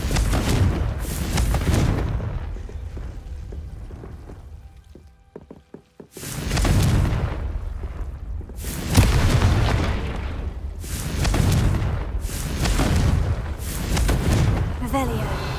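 Confringo explosive spells blast in Hogwarts Legacy, with a series of booming bursts in quick succession after a quieter stretch. Voices are heard speaking among the loud explosions.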